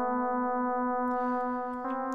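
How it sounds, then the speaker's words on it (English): FM synthesizer tone with an integer harmonic ratio, producing a tidy, harmonic melodic sound: a steady sustained note that shifts pitch near the end, played alone and fairly quiet. "So what you get is a very tidy melodic sound like this."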